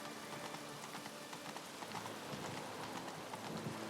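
Horse hooves clip-clop in The Witcher 3 video game as a rider moves at a walking pace through a town, steady light footfalls under a soft, rain-like background hiss.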